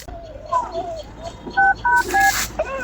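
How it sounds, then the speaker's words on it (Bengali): A telephone is dialed, a quick series of distinct keypad tones at close range after some soft voices at the start. "দাঁড়া আমি মিজানে ফোন দিচ্ছি।"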